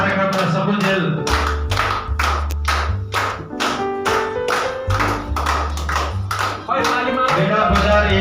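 Applause at a party: a crowd clapping in bursts over a steady loud music beat, with a voice talking intermittently across the noise.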